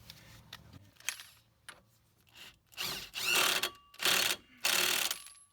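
A hand ratchet spins a 1 1/4 inch axle nut onto a Dodge Grand Caravan axle, making several bursts of rapid clicking that grow louder and longer, close by with no talk.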